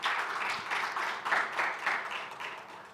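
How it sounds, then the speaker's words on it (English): An audience at the official launch of the Imisanzu platform claps briefly, a short run of mid-loud applause with rhythmic pulses from a few prominent clappers standing out over the general patter. "I think you deserve a round of applause for the hard work."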